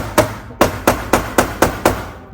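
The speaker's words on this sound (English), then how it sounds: "go ahead and hit it with like a hammer and make sure it taps into place" A hammer taps a shifter retaining piece into place during installation of a Stage 2 shifter kit in a 2023 Honda Civic Type R FL5: six evenly spaced, sharp close strikes, each dying away quickly.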